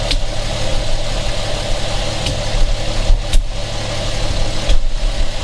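A car engine idles with a steady low rumble close by, with a few small revs and clunks over the constant hum.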